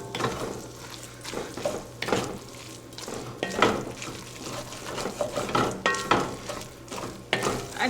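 Noodles are stirred in a pot, producing repeated wet squelching and scraping strokes against the metal with occasional light clinks, close and moderately loud over a low steady hum.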